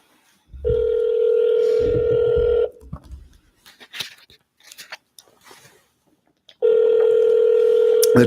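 Automatic phone dialing system placing outbound calls, a loud steady tone sounding for a couple of seconds, then faint clicks and scattered brief noises, then the tone returning.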